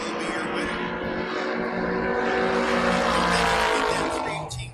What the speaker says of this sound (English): That 318 going, that's a good, solid little motor.